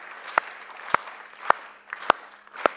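Five sharp, evenly spaced claps ring out over a low steady hum, welcoming a speaker to the stage at the launch of a logistics and transport professionals' association; no voices are heard.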